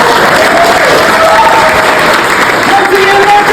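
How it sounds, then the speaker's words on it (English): Audience applause for a level 1 and level 2 class at a school stage show, a dense steady wash of clapping and crowd noise filling the whole stretch, with faint voices mixed in. "Great applause for my class."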